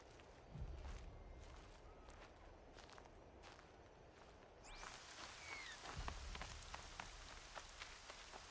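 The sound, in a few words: rain falling in the video game Horizon Zero Dawn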